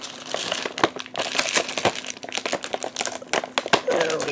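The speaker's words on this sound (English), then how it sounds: "So let's go ahead and open up the box." A toy box is opened and a plastic insert holding a velociraptor action figure is handled, with close crinkling, clicking and crackling of plastic packaging in quick irregular bursts while someone talks over it.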